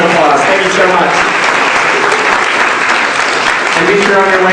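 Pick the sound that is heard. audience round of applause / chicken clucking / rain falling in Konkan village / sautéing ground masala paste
audience round of applause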